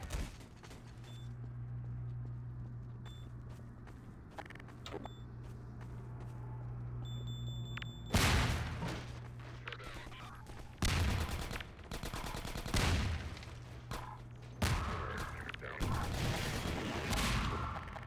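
Combine rifle fire in Half-Life 2: Episode 1 breaks out in several loud, sharp bursts after a quieter start of low ambient hum and faint clicks, with gaps between volleys.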